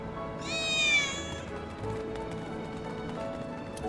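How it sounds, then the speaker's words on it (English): Cat meowing in the Final Fantasy VII Remake video game, one drawn-out high meow, fairly close, followed by soft footsteps and background game ambience, with brief talking. "Did you hear that just now? I think one of Betty's cats."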